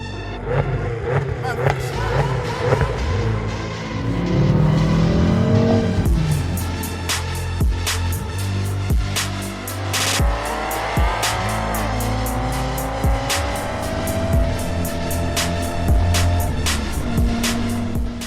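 A BMW M5 with M mode engaged accelerates hard at full throttle, its engine roaring close and loud, rising and falling through gear changes across the clip.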